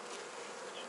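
Honeybees buzzing steadily over an open hive frame in a colony with laying-worker bees, a dense close insect drone filling the short moment without any voices.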